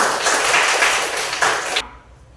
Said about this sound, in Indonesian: Tepuk tangan buat Hati.